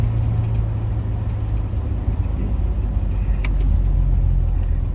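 A 1967 AMC Rambler American red convertible with a 199 cubic inch engine, recently freed of a vacuum leak, growling steadily while driving, a loud low rumble with road noise and occasional faint clicks.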